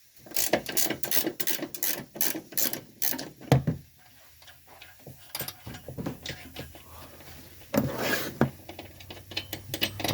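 Ratchet loosening bolts during intake manifold removal on a Ford Freestyle with a number two cylinder misfire, rapid clicking runs of the pawl, close and fairly loud, with a pause and then another burst of clicks.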